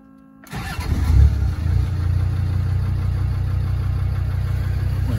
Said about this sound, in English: I'll just do a video of start up and engine running on this Defender 90